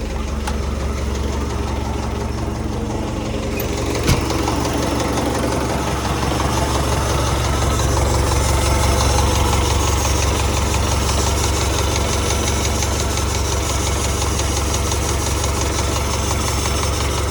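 A car engine fitted with a new exhaust and air intake idles steadily with a deep, throaty exhaust rumble, close and continuous throughout, with a single sharp click early on.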